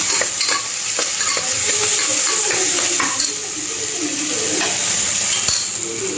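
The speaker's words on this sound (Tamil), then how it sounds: "போட்டு நல்லா கிண்டி விட்டுக்கோங்க கருவேப்பிலை கொஞ்சமாக போட்டுக்கோங்க" Turmeric and curry leaves stirred in a hot frying pan for vegetable kurma, a steady sizzle with scraping spoon strokes against the metal, close and continuous, with no talk.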